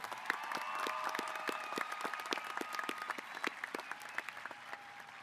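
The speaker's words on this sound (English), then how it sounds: "Please give them all one more big round of applause." Applause at a Reedley High School graduation ceremony, many people clapping at a distance with distinct individual claps audible, gradually thinning out toward the end.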